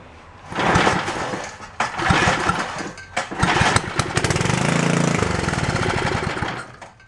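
A Troy-Bilt rototiller engine sputters through several pulls and catches, then runs with a rough, loud, steady idle before dying off.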